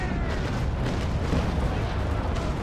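A broadside of cannon fire from the USS Constitution in the naval game Naval Action, a dense continuous rumble of overlapping heavy booms lasting a few seconds, loud and unbroken with no voices.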